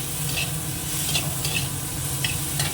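Shrimp fry in a small amount of oil in a pan. A steady, close sizzle is broken by scattered light scrapes of stirring, and no one speaks.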